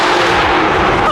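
A Lamborghini engine revs hard at night with loud, dense, broadband roar filling the clip, close and continuous with no pauses.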